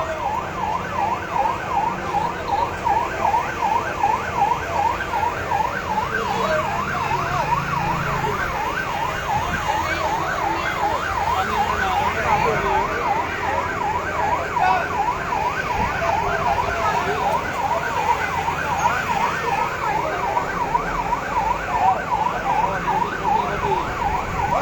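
A fire engine siren wails continuously in a fast, steady up-and-down rhythm at a fire in Sabang, loud and sustained over rumbling traffic noise, with no speech.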